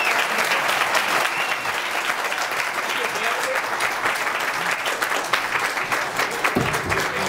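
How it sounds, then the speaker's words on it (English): Sustained audience applause for the presenters after a Q&A session on New York shale gas potential, a dense, loud and continuous wash of clapping with a brief murmur near the end. "let's give an applause one more time for the presenters"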